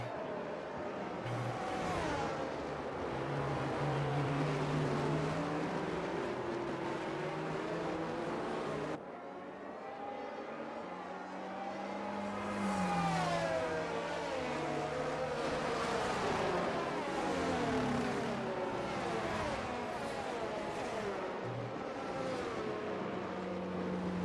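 Racing cars in a racing video game run through the pit lane, giving a continuous droning engine tone that rises and falls in pitch, loud and alone with a brief break midway.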